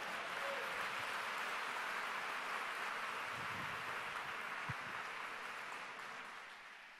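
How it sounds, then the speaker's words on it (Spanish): Church congregation in an auditorium applauding, a steady broad wash of many hands clapping at moderate distance that gradually fades toward the end. "alguien aplauda a Dios en este auditorio"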